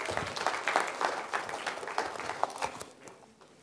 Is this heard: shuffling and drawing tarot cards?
no